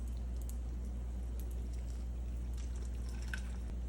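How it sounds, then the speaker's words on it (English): Water pours steadily and continuously into a pot of rice for pumpkin rice, a constant splashing rush with faint drips, no voices. "Add water to the rice."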